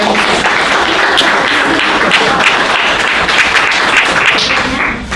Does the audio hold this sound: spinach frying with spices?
no